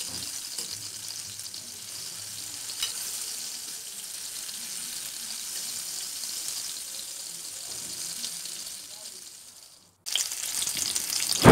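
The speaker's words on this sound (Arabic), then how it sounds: "كما كتشوفوا معنا دابا الطماطم ديالنا راه قلات مزيان" Tomatoes frying in a pan give a steady broadband sizzle at moderate level, with a faint stirring scrape, until a sudden break near the end where a louder, harsher sizzle resumes.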